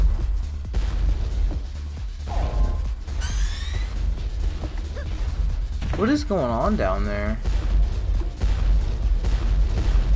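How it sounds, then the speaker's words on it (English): Explosions in a video game rumble continuously as deep booms and artillery-like thuds, while someone talks over them. "What is those explosions?"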